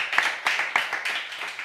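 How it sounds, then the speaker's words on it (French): A studio audience claps for an arriving contestant on a French comedy game show, with brisk, close hand claps in quick bursts. "comme on le fait avec les candidats que je vous demande d'applaudir"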